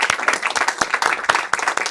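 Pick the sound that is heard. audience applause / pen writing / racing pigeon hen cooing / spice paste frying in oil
audience applause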